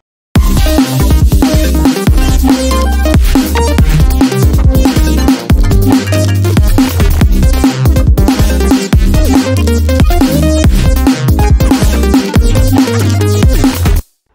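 Drop section of an aggressive electronic track with a steady pounding kick, dense distorted bass and bright synth layers, loud and continuous with brief rhythmic gaps, no voices.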